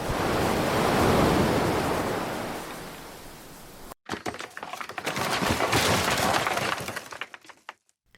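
Tsunami waves crash in a sound effect for the sea surging into Port Royale: a long, loud roar of surf and rushing water, a sudden cut, then turbulent breaking and smashing water that fades out at the end.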